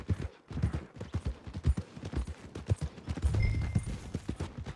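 Horse hooves clip-clop at a steady trot in the video game Red Dead Redemption 2, with close, rhythmic, evenly spaced footfalls on a road. A low rumble builds near the end, and no one speaks.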